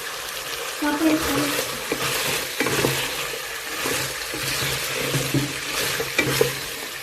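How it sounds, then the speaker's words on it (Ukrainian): Vegetables for a stew frying in a home kitchen, a continuous sizzle with intermittent stirring and clatter, partly masked by running water and a speaking voice. "Тут вже в мене смажиться на рагу все потрошку"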